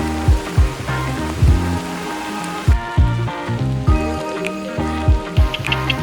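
Heavy rain at Rio Celeste, Costa Rica, pours down in a steady, dense wash close by, with repeated sharp low thuds and patters of drops striking a nearby surface.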